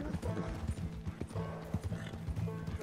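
A horse is ridden at a brisk pace in Red Dead Redemption 2, with dense, rhythmic hoofbeats close and fairly loud and no voices over them.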